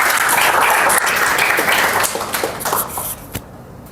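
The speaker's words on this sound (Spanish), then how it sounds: "Nuevamente un fuerte aplauso para Daniel Áñez." An audience applauds in a dense burst of clapping that gradually thins and fades out toward the end.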